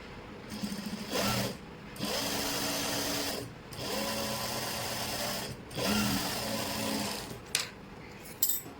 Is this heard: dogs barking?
no